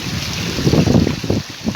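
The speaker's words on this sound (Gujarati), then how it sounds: "વરસાદ ચાલુ છે મિત્ર, જો" Heavy rain and storm wind roar together in a steady, loud outdoor wash, with gusty low rumbles swelling and fading throughout.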